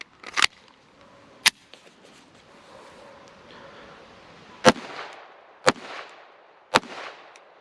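Firearm shots at pumpkins outdoors: five sharp, loud reports spaced irregularly over several seconds, with faint rustling between them.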